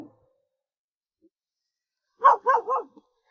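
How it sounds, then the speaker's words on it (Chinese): A dog in a remote mountain village of old houses gives three quick barks close by, following a long stretch of near silence. "哎，这狗狗还挺好的，它真的是欢迎呢，它不咬的。"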